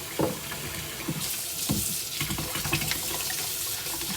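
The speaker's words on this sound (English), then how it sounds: "As long as you're running it under some hot water, doesn't even need soap." Hot tap water runs steadily from a faucet into a sink while parts of a cat water fountain are rinsed under it, with splashes and small clatters of plastic pieces, no talking.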